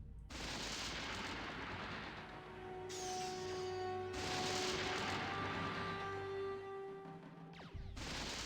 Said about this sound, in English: There's totally a plasma cannon protecting this stupid wormhole.